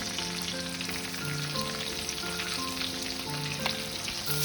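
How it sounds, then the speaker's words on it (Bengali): Chopped green chillies and ginger fry in hot oil in a wok, giving a steady, close, loud sizzle throughout with no talking. "এবারে আমি প্রথমেই দেব কাঁচা লঙ্কা কুচি, তারপরে দিলাম আদা কুচি।"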